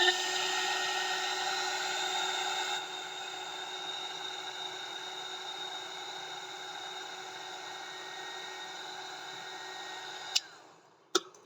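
A handheld heat tool blows hot air onto material that is about to be bent, giving a steady whirring hiss throughout. The sound drops a little in level partway through and ends with two sharp clicks as the tool is switched off.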